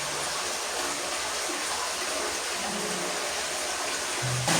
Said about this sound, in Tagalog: Yung tubig na ito. Galing yan sa taas, yung nadaanan nating sapa.